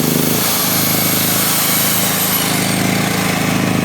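A Forte FG6500E petrol generator runs steadily at close range after pre-sale preparation, with a loud, rough engine drone and a rapid throbbing pulse.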